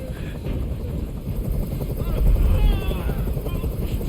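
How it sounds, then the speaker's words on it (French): Helicopter rotor thrumming steadily in the video game Detroit: Become Human, a loud continuous low chop that swells midway, with voices in the game speaking over it. "Fais dégager cet hélicoptère."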